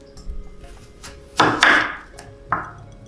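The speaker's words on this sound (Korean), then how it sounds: "당면을 삶을 동안 칼질을 한번 해보겠습니다" A kitchen knife chops ingredients on a cutting board in a few sharp, separate strikes, close and loud, with quiet gaps and no talking.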